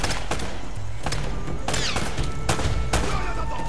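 Rapid gunfire bursts in Uncharted: Drake's Fortune ending in a headshot kill, with several sharp, loud shots and thuds in quick succession over a steady game soundscape.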